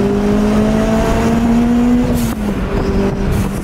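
A turbocharged Toyota MR2 Spyder with a 2ZZ-GE engine pulls hard under boost while merging onto a highway, its loud engine note climbing steadily in pitch, then briefly dipping at a shift before rising again, with no talking.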